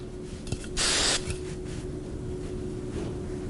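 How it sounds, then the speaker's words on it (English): A final burst of hairspray from an aerosol can during hair styling, one short hiss lasting about half a second over a steady background hum. "And then a final spray."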